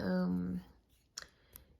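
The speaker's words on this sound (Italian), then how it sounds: "queste sono delle forbici Fiskars che appunto si piegano perché possono essere trasportate" A pair of folding Fiskars scissors, a compact travel pair, gives two short, sharp clicks close by, following a brief hum-like vocal sound at the start.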